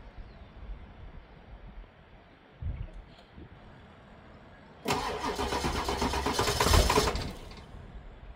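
A 7.3 diesel truck with weak batteries cranks once briefly, then turns over again with a loud, rough crank lasting about two seconds before the engine catches and fades.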